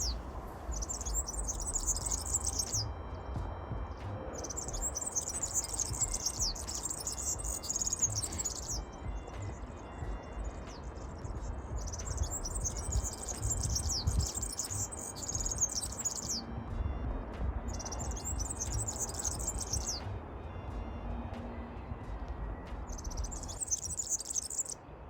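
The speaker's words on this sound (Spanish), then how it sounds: "La verdad que ya están muy fuertes los pájaros." Wild birds sing in open countryside in full spring breeding season, with repeated bright bursts of song coming and going over a soft bed of insect chirring and faint rustle, moderately distant and fairly quiet.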